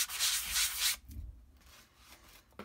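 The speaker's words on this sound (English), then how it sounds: "So I'm just going to sand it, make sure it's nice and smooth before I start." A sanding block scrubbing a small birch wood coaster in a few quick, close rasping strokes, then dropping to quieter, lighter rubbing.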